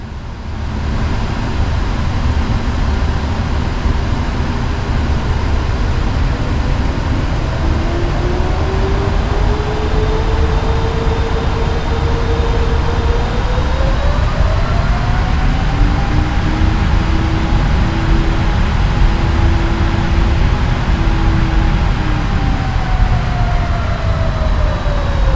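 Cockpit ambience of a Boeing 777 in the PMDG flight simulator game is a steady, muffled engine drone with a hum and faint whining tones that shift slowly in pitch, continuous and without speech.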